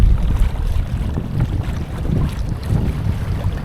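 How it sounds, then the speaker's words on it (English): Steady wind gusting across a clear lake on a cold fishing day, a continuous low rumbling buffet with no speech. "It's a little windy and cold."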